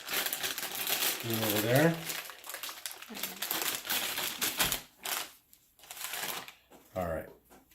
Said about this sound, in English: So give this chicken stew a try. Let's open her up.